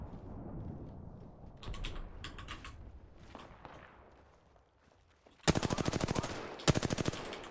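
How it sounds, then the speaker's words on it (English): Automatic gunfire in a shooter video game comes in two loud rapid bursts near the end, following a stretch of quieter clicks and shuffling. "Opening fire."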